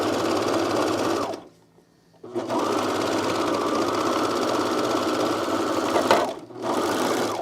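A sewing machine runs in long steady loud bursts close by, with a clear pause after the first and a brief stop near the end before it starts stitching again.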